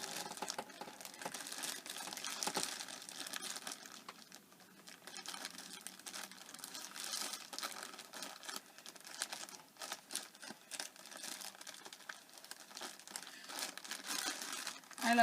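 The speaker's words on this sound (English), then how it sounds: "Sorry about the rustling," Close, dense crinkling of yarn packaging, with irregular rustles and crackles that continue throughout.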